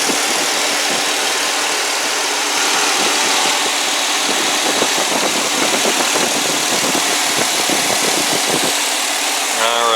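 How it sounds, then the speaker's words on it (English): A 2001 Chrysler Town & Country LX AWD minivan engine idling with a steady, loud mechanical drone and faint rhythmic ticking throughout, holding even for the full stretch. "let you guys listen to it idle"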